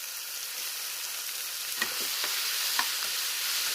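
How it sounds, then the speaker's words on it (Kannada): Bitter gourd frying in plenty of oil in a pan with cooked tomato and onion for a curry, giving a steady, close hiss of sizzling with a few brief pops and crackles throughout. "ಇದನ್ನು ಚೆನ್ನಾಗಿ ಎಣ್ಣೆಲೇ ಹುರ್ಕೊಬೇಕು, ನೀರೇನು ಹಾಕಬಾರ್ದು"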